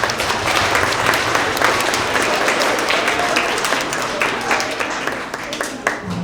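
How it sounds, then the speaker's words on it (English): Students at a grades 3–5 winter award assembly give loud, sustained applause, dense clapping from a large group filling the room without a break. "So give yourself a round of applause because you guys are here today"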